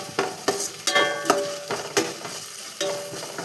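Ginger garlic paste sautés in a hot pan while a spoon scrapes and stirs it, giving a steady close sizzle broken by about eight sharp scraping strokes in an uneven rhythm.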